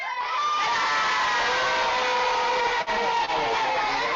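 Children cheer and shout together in their classrooms, a dense, loud, continuous roar of excited young voices with only brief dips.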